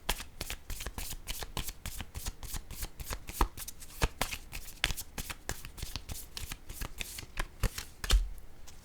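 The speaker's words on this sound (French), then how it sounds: "Je vais piger une autre carte" Playing cards are shuffled and drawn at a tarot-style reading, a steady run of crisp riffling flicks and snaps close by with no talk.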